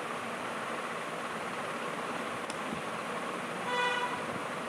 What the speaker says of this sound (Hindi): अब ये हॉर्न जो बज रहा है ना, ये पूरी गली में हॉर्न नहीं बजा रहा है